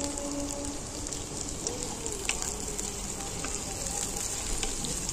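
Carrots and beans fry in oil for Bengali-style fried rice, giving a continuous, even crackling sizzle like light rain, close and moderately loud with faint scattered pops.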